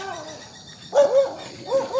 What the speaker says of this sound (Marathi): हे घराजवळचे डॉग आहेत ते काय